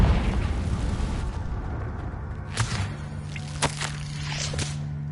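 Confringo blasting curse explosions in Hogwarts Legacy, several sharp cracking bursts and thumps spaced across a rumbling, humming game ambience, moderately loud and without speech.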